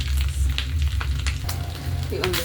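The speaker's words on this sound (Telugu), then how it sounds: "సగం వేగింది, ఇంకా కొంచెం బాగా వేగాలి." Fish pieces fry in hot oil with a steady, loud sizzle. Brief scraping and clinking sounds cut in over the continuous crackle.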